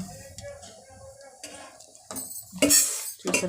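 Spoon scraping and clinking against a cooking pot while food is stirred, a few sharp metallic knocks and scrapes, close and fairly loud, with a voice speaking faintly in the background.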